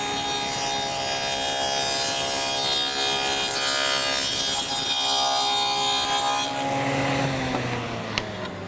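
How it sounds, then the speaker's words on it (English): A table saw fitted with a dado blade cutting a groove, a loud, continuous high whine with a dense grinding roar, close and unbroken, dropping in pitch as the cut ends. "I set the width of the dado blade, I set the height, and I just simply cut a groove"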